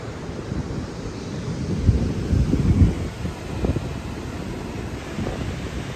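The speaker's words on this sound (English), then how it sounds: "the surf is still really rough on this side." Rough ocean surf breaking at a beach, a broad rushing wash with swells building and fading, mixed with wind buffeting the microphone, no voices.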